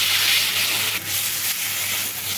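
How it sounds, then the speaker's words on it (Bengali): Spice paste being stir-fried with fried potatoes over a medium flame, a bright continuous scraping and sizzling hiss with a couple of short rubbing strokes of the spatula against the pan. "দিয়ে এর মধ্যে ভেজে রাখা আলু, আলুর সাথে মশলাটা কষিয়ে নেব।"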